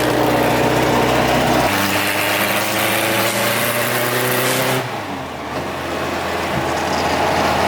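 A 50cc scooter engine revs hard and close, a loud buzzing drone that holds steady before the pitch drops and settles into a lower run.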